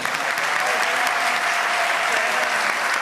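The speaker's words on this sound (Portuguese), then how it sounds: "Pode aplaudir, porque ele merece" A studio audience at a late-night talk show bursts into sustained applause, dense and even clapping holding at a steady level throughout with a faint voice underneath.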